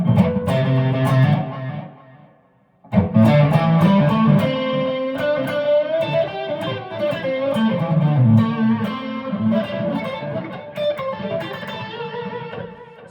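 Electric guitar through a NUX Space Echo pedal emulating a Roland RE-201, with a touch of reverb and soft tape-echo repeats trailing behind the notes; sustained chords and melodic lines play alone, loud and close, with a brief pause near the start.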